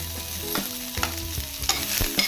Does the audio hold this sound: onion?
yes